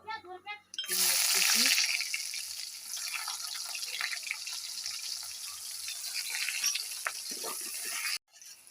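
Whole cumin seeds hit hot oil for tempering, breaking into a loud, steady sizzle that holds for several seconds close up, then cuts off abruptly; a brief voice is heard just before it begins.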